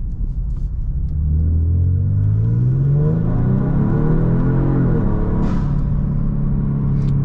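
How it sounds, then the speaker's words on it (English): A tuned 2023 Genesis G70 lets out a deep, steady exhaust drone that climbs in pitch under acceleration and then levels off, with a faint whooshing intake and turbo noise and no talking. "no pops or crackles from the exhaust, just a nice deep sound, and the intake noise or the turbo noises."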